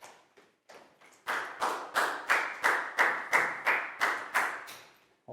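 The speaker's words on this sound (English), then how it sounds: "a big round of applause for Bangpon" A class of young pupils claps for a classmate: a few scattered claps, then a steady run of about ten loud, rhythmic group claps, close by in a classroom.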